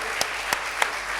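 Scattered hand claps from a game-show audience paying tribute, three sharp separate claps at an even spacing, near and brief.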